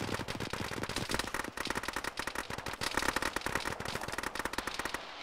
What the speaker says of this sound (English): Potential AK fire to the north